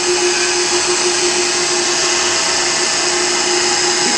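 A marble polishing machine runs steadily on a stone floor, a continuous loud motor whine with a strong steady hum, unbroken from start to finish with no talk.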